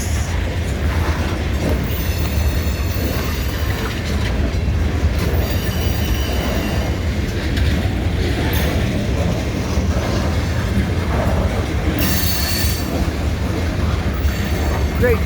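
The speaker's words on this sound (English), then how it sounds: "Yeah, we got a real train tonight, folks." An NECR freight train rolls steadily past at night, a continuous loud rumble of wheels on rail with repeated metallic squeals and clacking joints throughout.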